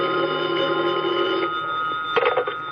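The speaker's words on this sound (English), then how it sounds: "the phone in the lobby started ringing." A telephone rings in a hotel lobby late at night, loud and close, with a steady electronic bell tone that holds for the whole clip.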